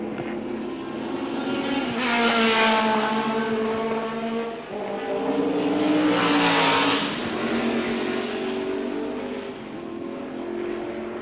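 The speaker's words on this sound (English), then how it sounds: "8 laps to go for Hobbs" 1972 Tasman Series racing cars roar past at Adelaide in two loud swells, engines rising and falling as they approach and pull away.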